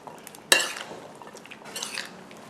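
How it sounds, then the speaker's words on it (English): A spoon stirs a bite-sized tomato salad with dressing and barley rusk croutons in a bowl, giving a sharp clink at the start and then soft, close scraping and mixing sounds with no talking. "I'm gonna use a spoon today because everything is bite-sized. And just mix it up"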